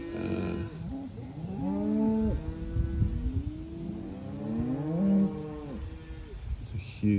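Cattle mooing repeatedly in a cattle yard in a large valley, several long, low, drawn-out calls overlapping at moderate distance, with faint engine noise underneath.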